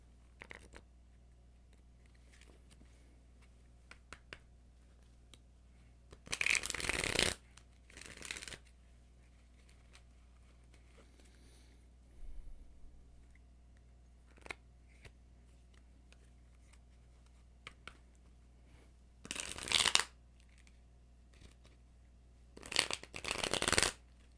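Tarot cards are shuffled close by in three separate crisp riffling bursts, each a second or two long, with quiet room tone in between.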